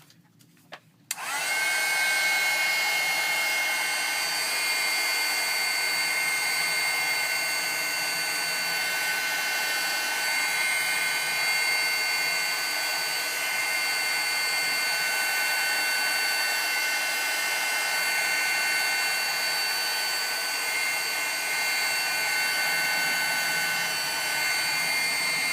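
Steady hair dryer or heat tool blowing while drying ATC craft cards, switching on abruptly after a brief click and then running loud and unbroken with a constant whine, no talking over it.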